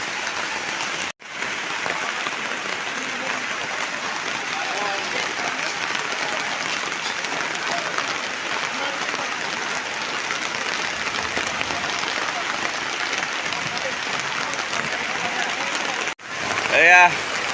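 Steady, dense rain pours down over an outdoor fish market, a loud continuous hiss filling the whole stretch and breaking off only briefly twice.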